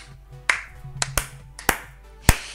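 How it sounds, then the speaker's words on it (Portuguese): A few sharp, separate claps ring out at irregular intervals, crisp and close, with quiet background between them. "Tudo a bater palmas lá atrás."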